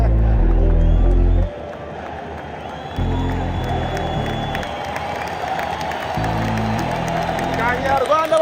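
A football crowd at Stade Amahoro during Al Hilal versus MC Alger roars and applauds, a broad wash of cheering with loud bursts that rise and fall under a commentator's continuous voice.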